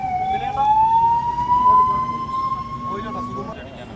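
A loud siren wails nearby with a long rising tone, while traffic rumbles and voices briefly cut in near the end.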